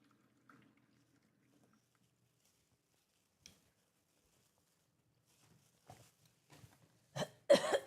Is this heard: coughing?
yes